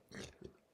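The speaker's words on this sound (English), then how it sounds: "That was a disgusting burp. I just drank sparkling water." A burp after gulping sparkling water, heard as two quick, faint, throaty bursts close to the mic, with no talking over them.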